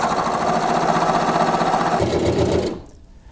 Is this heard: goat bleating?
no